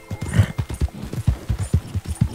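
A horse in the video game Red Dead Redemption 2 trots with quick, even clip-clop hoofbeats, close and clear, with no talk over them.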